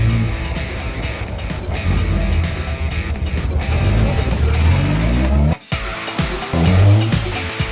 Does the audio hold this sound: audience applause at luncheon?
no